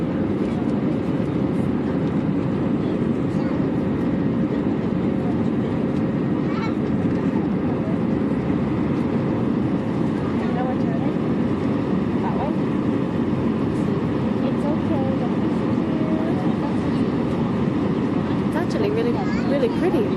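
Steady, loud airplane cabin roar of engines and airflow during the climb after takeoff, continuous throughout with no breaks, with voices talking faintly underneath.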